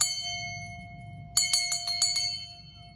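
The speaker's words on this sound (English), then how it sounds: "Oh, a brass bell." Antique brass bell rung indoors, a fading ring at first, then a quick burst of five or six bright strikes, each with a clear lingering ring.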